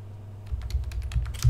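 Keystrokes on a computer keyboard as a command is typed into a Linux terminal during an Archbang install, a quick run of close, crisp clicks after a brief quiet start, ending with a heavier keypress.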